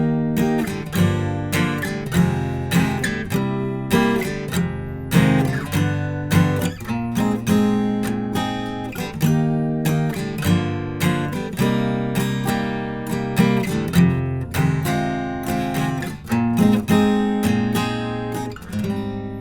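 A guitar plays a song's verse chord progression alone, with strummed chords repeating in a steady rhythm, close and clear throughout.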